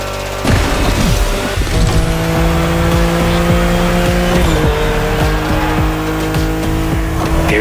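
A BMW M4 Liberty Walk Edition races in The Crew Motorfest, its engine roaring loud and close through steady revs with a gear change, tires squealing briefly along the way.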